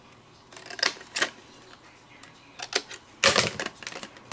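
Scissors make several crisp snips at irregular intervals, trimming the edges of die-cut paper from a double-sided peony die set. The cuts are close and sharp, with quiet pauses between them.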